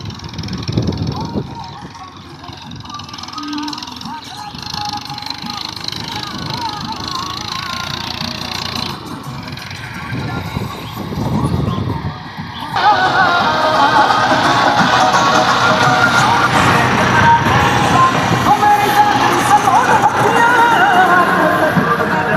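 Massey Ferguson 1035 DI, a small 35 hp tractor, pulls a cultivator through a field, its engine running as a steady mid-level drone that grows louder and fuller partway through, with a voice talking over it.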